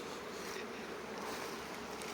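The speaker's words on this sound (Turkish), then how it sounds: "Üzerinde binlerce arısıyla" Dense, steady buzzing of thousands of bees on flowering ivy fills the air, a continuous soft drone without pauses, fairly faint.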